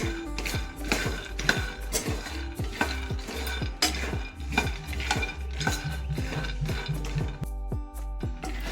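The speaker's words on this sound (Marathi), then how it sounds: "आता आपल्याला शेंगदाणे भाजून घ्यायचे गॅस आपल्याला कमीच ठेवायचा आहे" Peanuts dry-roasting in a pan over low gas, stirred steadily so the nuts rattle and scrape against the metal in a quick, continuous rhythm, close and fairly loud.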